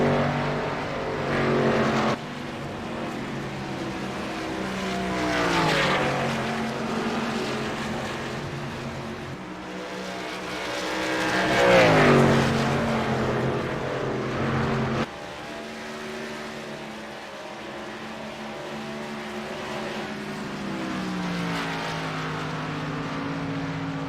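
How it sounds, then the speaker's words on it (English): Race cars lap a track behind and then past a pace car, engines droning and swelling for a steady stretch, with pitch sweeping as cars pass close and fade, one continuous roar without talk. "Catching up to the pace car. Yeah. And he passed the pace car."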